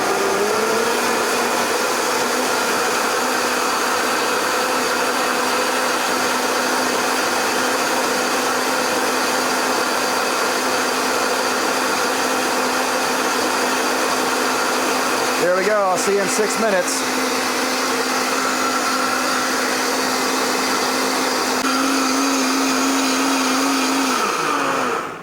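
A Vitamix blender runs loud and steady for a long stretch, blending tomato and basil soup with a constant high whirring roar and a brief rattling shift partway through. Someone speaks over it.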